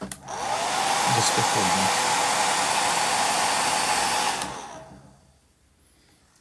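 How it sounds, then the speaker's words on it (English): A handheld hair dryer, used while building a model French chateau, blows steadily and loudly up close for about four seconds, then switches off and fades; a voice is heard briefly. "Just a bit of hair drying."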